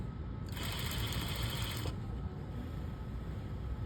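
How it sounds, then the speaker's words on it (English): Sewing machine stitching fabric for a bias-cut dress, a brief close burst of rapid mechanical whirring lasting about a second and a half over a quiet room background. "we're gonna be sewing a dress on the bias"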